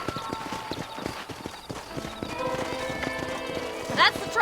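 Horse hooves clip-clop at a walking rhythm in the Red Dead Redemption western video game, with a steady beat of hoofbeats, a brief whinny, and voices talking over the top.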